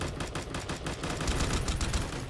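Rapid machine gun fire in a video game, a dense rattling stream of shots that is loud and close, running continuously with no pauses.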